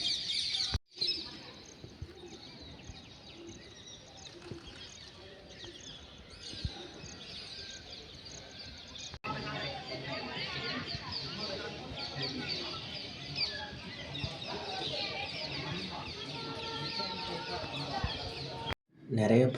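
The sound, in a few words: parrots and pigeons at Thanjavur Big Temple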